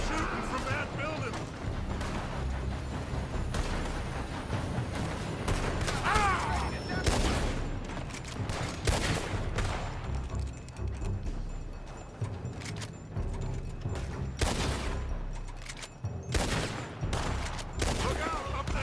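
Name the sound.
gunfire from a building in Red Dead Redemption 2 video game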